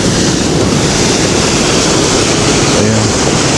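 Rushing river water in the Alma Arasan gorge near Almaty, Kazakhstan, a loud, dense, unbroken roar close by with no pauses.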